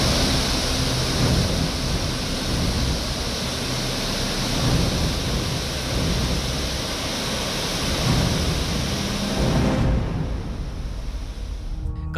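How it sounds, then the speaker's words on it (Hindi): The Mahakali river in flood, a dense, unbroken roar of rushing water, loud and close with no gaps, easing slightly in the final seconds. "महाकाली नदी के विकराल रूप और पानी के वेग का जोर धड़कन थाम देता है"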